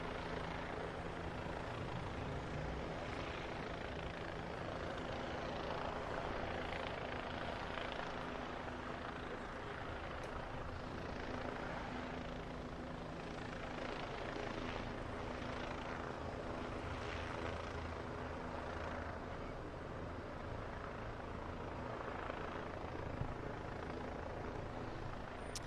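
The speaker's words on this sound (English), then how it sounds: "I can hear the chopper up ahead" Helicopter rotor noise holds steady and loud across the whole stretch, a continuous broadband thrum with low throbbing tones, passing overhead above an Atlanta street scene with no speech on top.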